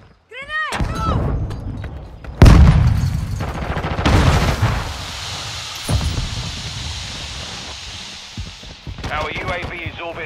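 A grenade detonates in Call of Duty Modern Warfare 2 multiplayer, a loud close boom with a long rumbling tail, surrounded by gunfire bursts and voiced radio chatter.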